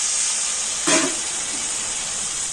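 Water poured into frying spices in a pan (Kashmiri chili, coriander and cumin powders) gives a brief burst of sizzle over a steady loud hiss of hot oil, with no talk.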